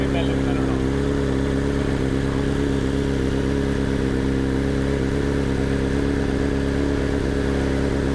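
A BMW S1000R M Sport motorcycle engine running loud and close, a constant gritty drone held steady for the whole stretch, with people talking over it.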